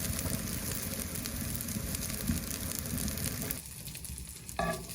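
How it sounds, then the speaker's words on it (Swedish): Meatballs warming in a frying pan over an open campfire on a November hike, giving a steady close sizzle and crackle that runs almost the whole time, then drops slightly near the end. "Det fanns en stekpanna här, så då kan vi värma köttbullarna över elden."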